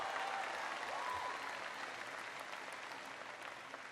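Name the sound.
audience applause for the parents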